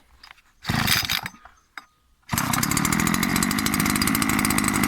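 A Sparta 25 walk-behind tractor's small engine sputters through a couple of short pull attempts, then starts and runs steadily with a loud, close, rapid chugging.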